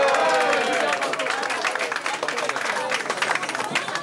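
Applause at a French election-night gathering as results come in, a burst of clapping with crowd chatter, fading into scattered claps and voices.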